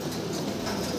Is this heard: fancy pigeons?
yes